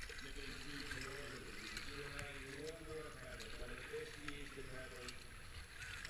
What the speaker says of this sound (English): I suppose I better paddle.